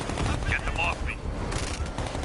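Gunfire in the video game Batman Arkham Knight, loud dense bursts of shots mixed with game audio and a voice talking over the chaotic, sustained noise.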